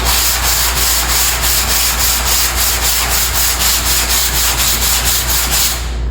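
A sanding block scrubs body filler on a truck panel in quick, regular back-and-forth strokes, a loud, close rasping hiss that pulses evenly and stops abruptly at the end.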